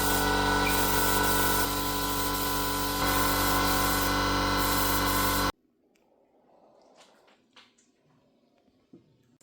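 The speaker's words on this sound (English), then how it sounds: "And now I can spray all around, everywhere." A spray gun hisses steadily and loudly while coating body panels on a BMW G31 estate for about five seconds, then cuts off, leaving faint quiet handling noises.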